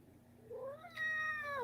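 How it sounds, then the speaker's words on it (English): A cat meows twice indoors, a short rising call followed by a louder, longer drawn-out meow, close and clear against a quiet background. "y'all may have heard Allie meow a few times in the background"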